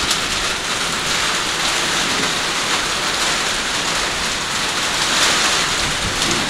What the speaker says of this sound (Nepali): भारी वर्षा पर्ने भयो।